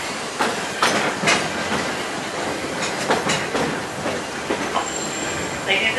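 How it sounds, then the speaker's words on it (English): Walt Disney World Magic Kingdom train rolling into Main Street Station, with rhythmic wheel clatter, metallic squeals and creaks from the railcars, moderately close and continuous, with no speech over it. "as we approach Main Street Station, please remain seated until the train has come to a halt."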